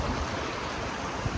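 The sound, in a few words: stream flowing beside a hiking trail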